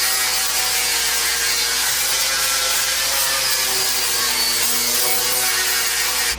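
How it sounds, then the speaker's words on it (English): Steady, dense abrasive rasping of a boat surface being sanded by hand or power sander, close and loud, running unbroken for the whole stretch before cutting off at the very end. "I did pretty much all the sanding for right now"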